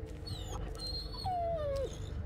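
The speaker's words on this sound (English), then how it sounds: "It was a dog on the radio the whole time." A dog whimpers and wails over a radio in the Blair Witch video game, with several rising and falling whines under a dense, rumbling ambient background.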